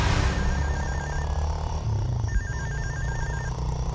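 A telephone rings with an incoming call in a tense Telugu action film scene, repeated electronic trill bursts sitting over a dense, loud music and rumble bed.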